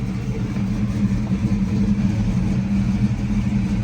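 A Ford Mustang Foxbody engine runs steadily after a restart, a close, loud, even low rumble with a slight throb and no talking.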